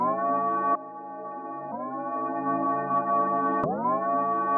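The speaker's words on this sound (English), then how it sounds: "which is pretty much a reverse bell" Reversed bell accent pitched down slightly, swelling tones that rise and cut off abruptly, several in a row, with the last swell ending in a sharp click; moderately loud and close, alone.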